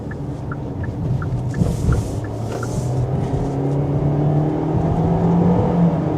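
A 2026 Kia Seltos EX accelerating hard onto a highway, its engine note rising steadily under continuous road rumble and wind from inside the cabin, with no talking.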